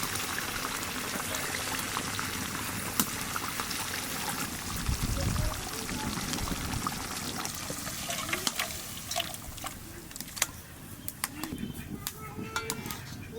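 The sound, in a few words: shorshe ilish simmering with raw mustard oil added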